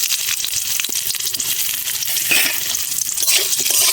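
Potatoes dropped into hot oil with black cumin (kalo jeere) for aloor kochuri, crackling in a loud, dense, continuous sizzle up close, with no voices.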